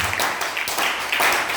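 Church congregation applauding the Lord during a worship service, a short burst of many hands clapping with steady, lively rhythm.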